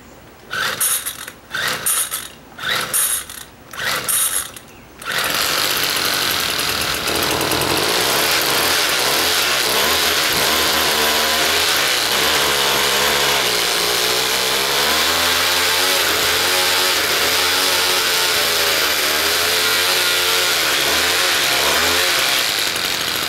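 A small engine with a primer bulb and choke gets several short pull-start attempts, then catches and runs loudly and steadily close by with a buzzing, vibrating tone for the rest of the time.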